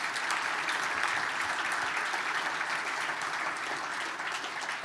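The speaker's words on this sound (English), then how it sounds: "Can we have a big round of applause to thank our sponsors for today?" Audience applause at a business luncheon at the National Arts Centre, a steady, even wash of many hands clapping that holds at a moderate, slightly distant level throughout.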